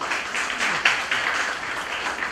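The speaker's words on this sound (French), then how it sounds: "On les applaudit s'il vous plaît, on les applaudit s'il vous plaît." Applause from an audience at a school year-end party at Collège Notre Dame du Perpétuel Secours, a dense, steady wash of many hands clapping at close range with a few sharper claps standing out.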